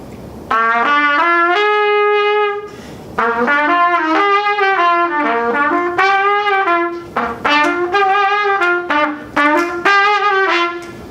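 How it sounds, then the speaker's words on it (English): A sustained keyboard-like dominant seventh chord played in repeated, shifting phrases with pauses between, full and close, no voices. "we're usually going to play a dominant 7 chord"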